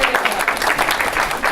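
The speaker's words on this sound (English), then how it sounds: "And another round of applause for Joanne" A brief round of audience applause, dense and even, a crowd clapping loudly and close with no speech on top.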